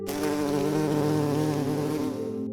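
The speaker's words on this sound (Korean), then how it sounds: "벌집 속 그리고 어디에선가 말벌들이" Wasps or hornets swarming around a hive: a loud, continuous, droning buzz with a rich, wavering hum that fills the whole stretch, with no voices.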